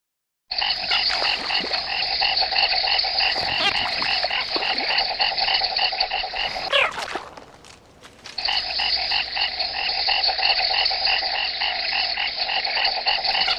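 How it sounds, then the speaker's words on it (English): Clawed frogs croak in a continuous loud, rapid chorus of buzzy rattling calls, breaking off briefly midway before resuming just as densely. "A claw frog entered Israel from Central and South Africa as a laboratory animal"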